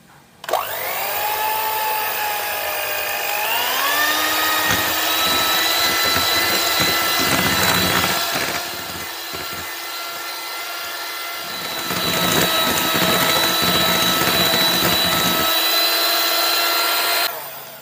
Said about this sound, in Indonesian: kalau sudah margarin ini kita kocok sampai mengembang, lembut dan juga creamy. Dan ini kita langsung aja pakai alat pengocoknya